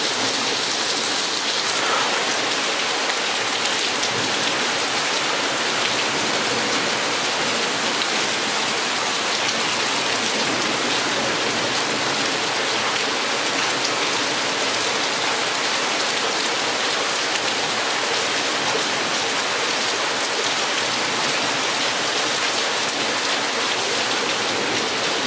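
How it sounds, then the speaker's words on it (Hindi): Heavy rain falls in Islamabad as a loud, dense, unbroken hiss of drops on surfaces, steady throughout with no voices. "माशाल्लाह से बारिश काफ़ी अच्छी हो गई है और तेज़ हो गई है."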